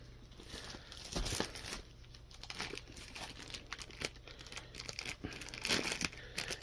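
A plastic dust sleeve bag holding a diamond art canvas is pulled open, giving a series of close, fairly quiet crinkles and crackles with a few louder rips, no voices.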